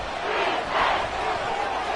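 Roaring stadium crowd noise in an American football video game, a steady dense wall of cheering and shouting from the stands that swells slightly midway, loud and continuous.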